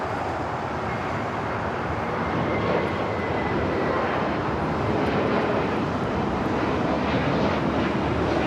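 A jet airliner takes off at LAX, its engines roaring as a loud, broad, continuous rumble that holds steady and swells slightly over the whole span, with no voices.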